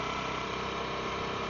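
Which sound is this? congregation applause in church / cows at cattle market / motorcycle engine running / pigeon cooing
motorcycle engine running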